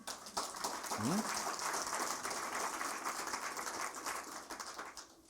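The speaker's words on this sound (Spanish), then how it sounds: "¿Podemos darle un aplauso al Señor?" A church congregation claps together during a worship service, a dense patter of hands that holds steady for several seconds and thins toward the end, with a voice heard briefly over it.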